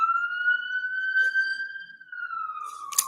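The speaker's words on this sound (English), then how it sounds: "let those sirens go by" A single wailing siren holds a steady rising-and-falling tone as an ambulance passes nearby, loud and clear with only faint background murmur, the pitch sliding down slightly as it moves away.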